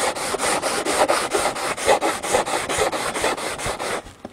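Sanding a wooden part of a Kwik-fli Mk III model aircraft: steady, evenly paced rasping strokes, about four per second, close and fairly loud, stopping near the end.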